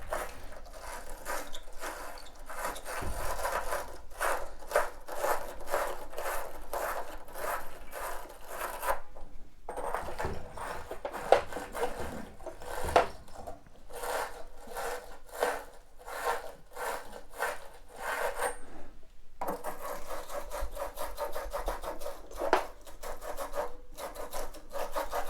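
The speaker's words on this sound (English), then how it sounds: "all we're gonna do is just deburr the pipe" A deburring tool rasps around the cut end of a half-inch copper water pipe during an electric water heater install, giving repeated close scraping strokes in bursts with brief pauses between them.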